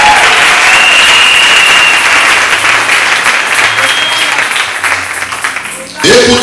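A church congregation bursts into loud, sustained applause during a French-language sermon, the clapping filling the room for about six seconds before fading, with a sudden shift in sound at the very end.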